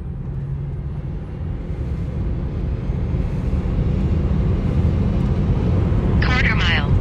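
Lucid Air electric sedan, a 1,111 hp model, accelerating hard from a launch-control start on a quarter-mile run: a steady, loud rushing roar of motor and road noise that builds across the run, with a brief voice near the end.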